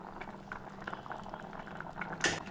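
Sweet potato payasam with milk simmers in a pot, giving a steady, close bubbling and gurgling, with a brief brighter splash or stir near the end.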